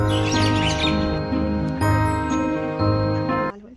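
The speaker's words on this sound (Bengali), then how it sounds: "পাখির এই আওয়াজগুলো।" Birds chirp among the trees of the ATI Kolkata training campus, with quick bright calls at first and then sparser tweets over a steady tonal ringing background, fairly close and without talk.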